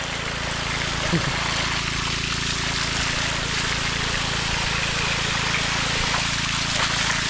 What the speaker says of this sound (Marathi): थोडशी पाणी चाललं बघा.